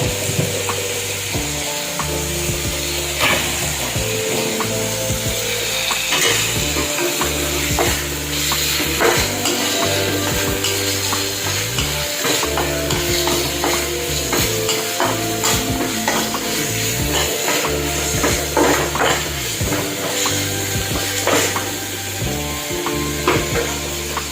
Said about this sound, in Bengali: একটু ভেজে নিচ্ছি তেলে